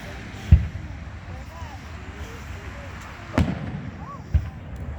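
Holiday fireworks burst in three distinct, fairly distant booms spaced a few seconds apart, with whistling trails between them and voices talking over the background.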